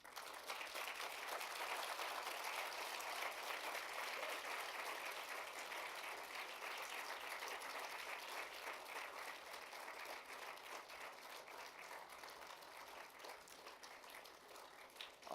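Sustained applause from graduates at a 2014 KGI commencement ceremony, a large room of steady clapping that stays dense and even throughout, easing only slightly toward the end.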